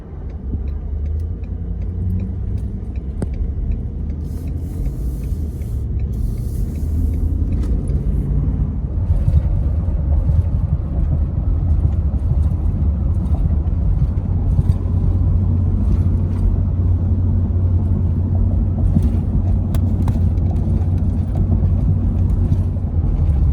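A 2020 Ford F250 bi-fuel truck drives while towing, giving a loud, continuous low rumble of engine and road noise from inside the cab that swells slightly as it picks up speed.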